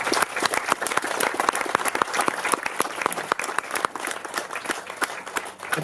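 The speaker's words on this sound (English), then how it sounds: "If we could please give our administration and our teachers a round of applause." School audience applauding administration and teachers, a full round of many hands clapping briskly and continuously at a steady, fairly loud level, with a faint crowd murmur beneath.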